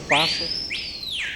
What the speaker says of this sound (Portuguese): um pássaro que tem um canto fortíssimo